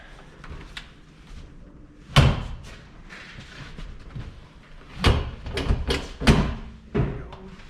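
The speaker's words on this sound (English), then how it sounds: "This door opens up." Several loud thumps and clunks of a 1990s GLX station wagon door being handled and opened, with quieter rustling and movement between them.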